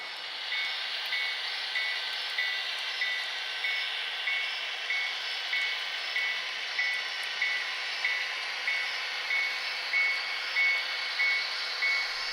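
A BNSF coal train rolls into a model railroad layout as a steady mechanical hum with an evenly spaced, repeating high tonal pulse, moderately loud and continuous, with no voices.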